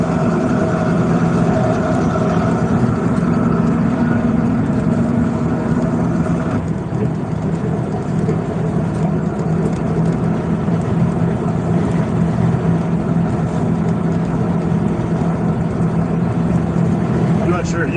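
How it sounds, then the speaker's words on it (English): A forklift engine idling a bit high, with a steady, loud, continuous drone and hum that holds even throughout, close to the microphone. "Now it's idling a bit high."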